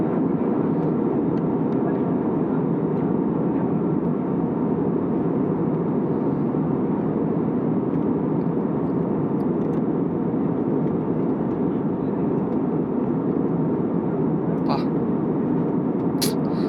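Steady, loud broadband roar of an airplane in flight over Ladakh, a continuous engine drone that holds evenly throughout with no breaks or other clear sounds.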